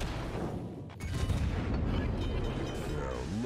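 Warship guns fire in World of Warships from a tier VII Japanese cruiser, the Myoko: a deep booming salvo hits about a second in, then rumbles on loudly over a constant roar of engine and sea.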